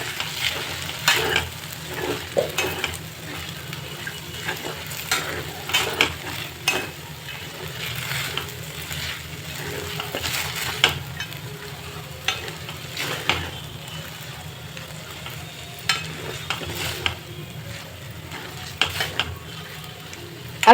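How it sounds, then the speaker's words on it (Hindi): Sabudana khichdi with cumin and spices is stirred in a pan, with a soft sizzle underneath and repeated spoon scrapes and clinks at an irregular rhythm, and no talking. "अब सभी चीज़ों के अच्छा से मिक्स करके साबूदाना के पका लेवे के बाद"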